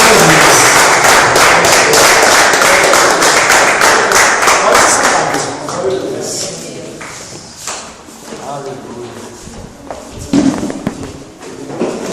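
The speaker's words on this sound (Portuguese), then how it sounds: "Uma salva de palmas para Jesus." Church congregation applauding for Jesus: loud, dense clapping for several seconds that thins into scattered claps and voices, with talk continuing underneath.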